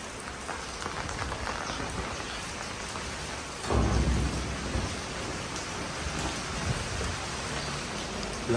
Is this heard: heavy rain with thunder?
yes